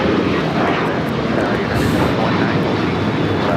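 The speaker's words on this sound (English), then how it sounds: "This is American Airlines Flight 565 taking off to Puerto Vallarta on a 737-800." An American Airlines Boeing 737-800 takes off from Los Angeles International, its jet engines producing a loud, steady, broadband roar that fills the whole stretch without letup.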